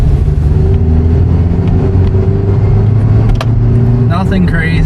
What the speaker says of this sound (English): I'm gonna put it in the very lowest gear here and just do some light pulls